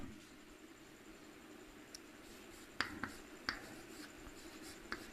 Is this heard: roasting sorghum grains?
no